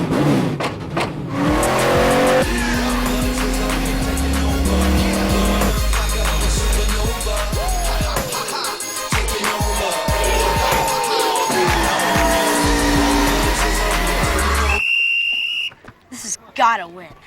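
A NASCAR race car in a Food City Bristol broadcast revs and accelerates hard, engine pitch climbing through gears with tire squeal, loud and close, then a brief pause and a few final bursts.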